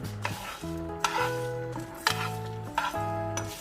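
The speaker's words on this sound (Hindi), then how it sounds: "अब इसमें हम ये सारे मसाले ऐड करेंगे एक साथ और अब इसे रोस्ट करते जाएंगे" Spices for seekh kabab are dry-roasted in a pan, with a metal spoon scraping and clinking against it about once a second over a faint sizzle, and music playing underneath.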